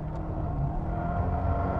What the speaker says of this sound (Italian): il motore e l'Alfa se ne va così, come se non fosse niente